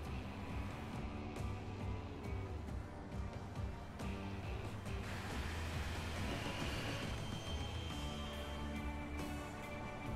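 A grain-carrying freight train in the railway game Transport Fever runs along the line with a steady rolling rumble, rhythmic wheel clicks and occasional squeals, continuous throughout.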